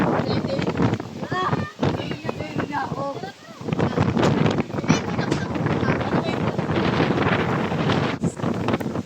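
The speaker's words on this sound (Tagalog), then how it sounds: "Lakas yung hangin." Strong wind buffets the microphone in heavy gusts at a beach resort in Lemery, Batangas, with brief lulls, and someone speaks intermittently under the roar.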